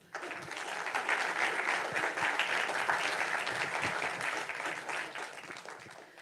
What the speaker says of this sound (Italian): E che riaccoglierei con un altro applauso.